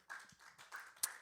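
A church congregation claps for the Lord, a few soft, scattered claps heard faint and brief, with one sharper clap near the end.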